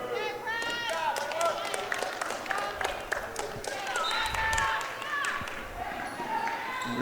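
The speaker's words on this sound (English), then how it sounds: "Greensboro fans cheering on their team's leading scorer as she comes off the court for a rest" Greensboro fans cheer in the gym during a women's college basketball game against Averett, a steady crowd roar with scattered claps and squeaking sneakers, while a commentator talks over it throughout.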